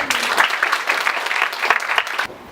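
Audience applause at a KAIST ceremony for the IBS campus research center signboard unveiling, steady dense clapping from a crowd filling the room for over two seconds before cutting off abruptly near the end.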